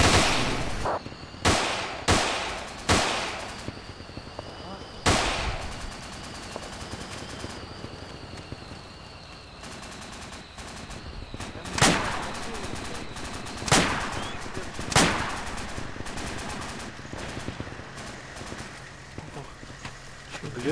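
Gunshots ring out during an assault on a south-eastern checkpoint at Sary Sang, with a sniper firing nearby: sharp, loud single cracks at irregular intervals, several in the first few seconds and more spaced out later, over steady background noise.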